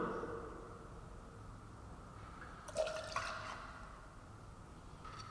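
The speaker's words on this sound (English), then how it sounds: "So we're going 2 ounces or 60 mils of your bacon fat washed bourbon." Bacon fat washed bourbon is poured into a measure in a quiet home bar. A short, faint liquid trickle lasts about a second amid low room noise, with no voices.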